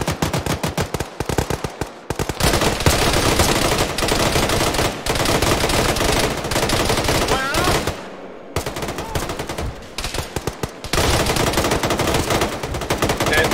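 Dense, near bursts of automatic and single-shot gunfire crackle almost without pause through a military shooter match in Arma, with brief gaps between volleys and faint radio-style voices underneath.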